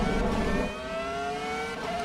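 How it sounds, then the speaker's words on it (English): A Ferrari F2004 Formula One car in the Assetto Corsa EVO racing game screams at high revs, then the pitch drops through a long, delayed first-to-second gear shift with a cut in the engine, loud and continuous. "You can just hear that first to second shift. It's very long. It's so delayed. There's a massive cut in the engine."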